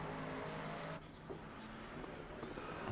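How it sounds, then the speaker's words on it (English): A Ford Mustang GT3 engine drones steadily from the cockpit while racing at Suzuka in a sim race, a continuous mid-level hum with a slight dip and rise in pitch. "Mustang sounds so good"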